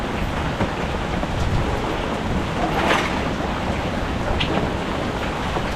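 Steady, dense rain hiss fills the scene, loud and continuous with a faint rumble underneath and no voices.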